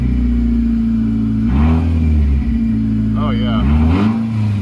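Nissan Juke engine on stock ECU flex fuel, idling loudly close by, then snapped twice with the throttle into short, sharp revs that quickly fall back to idle, with a voice briefly speaking over it.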